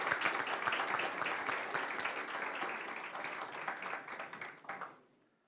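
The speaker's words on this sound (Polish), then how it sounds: "Jeszcze raz gromkie brawa dla liderów w swoich powiatach." Audience applause at an awards gala fills the hall, a dense, steady clatter of many hands that carries on for several seconds before tapering off and fading out at the end.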